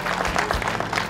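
Brief burst of applause for the winner of a Delta bass fishing tournament, a dense patter of hands clapping close by throughout the short moment.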